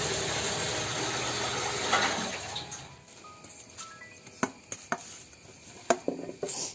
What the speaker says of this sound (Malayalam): കല്ലിലൊന്ന് നമുക്ക് അരച്ചെടുക്കണം.